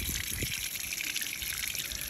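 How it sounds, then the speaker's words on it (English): Water pours steadily out of a freshly filled rain barrel, a continuous close gush and splash that holds at a constant level throughout with no voices. "Nice little flow of water."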